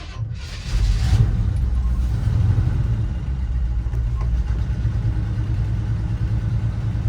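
A 1969 Chevrolet K5 Blazer CST with original low miles fires up from cold after two pedal pumps, its engine catching abruptly and settling into a loud, steady rumbling idle close by with no talking.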